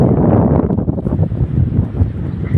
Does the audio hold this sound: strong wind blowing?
yes